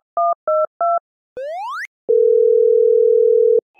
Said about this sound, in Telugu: ఒక రింగ్ అయ్యి ఆగిపోయిందిరా